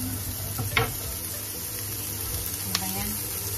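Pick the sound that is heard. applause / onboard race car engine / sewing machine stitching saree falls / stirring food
stirring food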